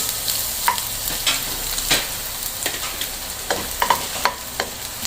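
Vegetables with coconut milk and shrimp sizzle and fry in a pan, with a continuous crackle broken by repeated stirring scrapes and clinks, close and alone.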